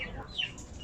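A chicken gives a few soft, brief clucks close by, faint and quiet against low background noise.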